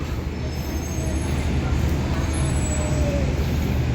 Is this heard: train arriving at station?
yes